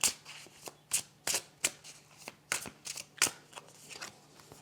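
Tarot cards are shuffled and laid down in a quiet room: a series of quick, crisp riffling bursts and soft slaps, about a dozen in irregular rhythm, close and fairly faint.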